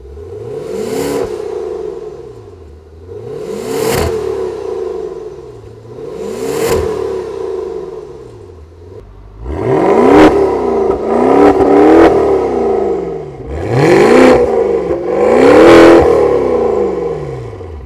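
A Maserati Quattroporte GranLusso GTS with quad exhaust pipes and variable-valve design revs loudly, first three separate rising-and-falling blips, then a tighter cluster of quick repeated revs, close by with no talk.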